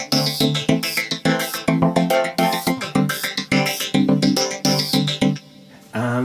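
A drum machine pattern runs through a Korg Radias vocoder, giving punchy, rhythmic hits with a synthetic, voice-like tonal color in a steady groove that thins out at the end.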